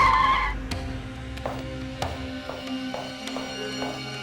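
An animated car skids to a halt, a loud tire squeal followed by a few faint taps with no talk over it.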